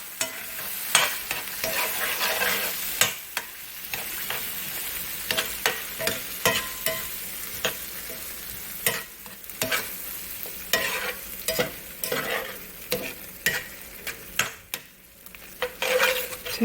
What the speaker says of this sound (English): we're stirring up all of that onion.